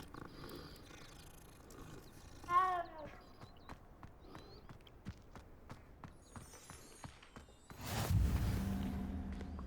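A cat in the video game Hogwarts Legacy is petted, giving a short meow-like call, then soft rhythmic ticks and a low murmur before a louder rushing swell at the end.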